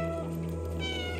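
A cat in the video game Stray gives a single short, close meow, rising and then trailing off over a steady background tone, with no talk.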